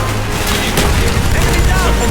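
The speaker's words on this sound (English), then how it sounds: "Grenade out!" A grenade bursts in the video game Call of Duty: Black Ops, a loud, close, dense crashing blast with a sharp crack partway through, short and without talk.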